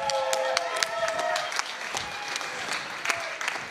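Sustained applause from a concert audience with scattered sharp claps over a steady wash of hands, a few tonal voices or whistles briefly rising above the crowd early on.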